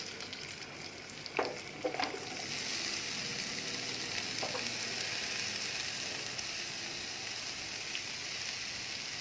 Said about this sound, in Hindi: तो इसमें मैं काजू, पिस्ता, छुहारे और बादाम डाल दूँगी और इसे हम अच्छी तरह से फ्राई कर लेंगे।